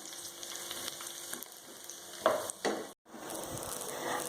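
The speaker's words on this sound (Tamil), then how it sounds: "முந்திரி திராட்சையை நம்ம நல்லா பொரித்து கொட்டிட்டோம்" Cashews and raisins frying in ghee for pongal give a steady close sizzle and crackle, with a couple of louder spatters or stirs partway through and a brief drop to near silence.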